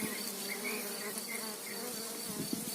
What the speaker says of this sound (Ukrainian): Ось от ось бджоли ззаді. Ось такий рій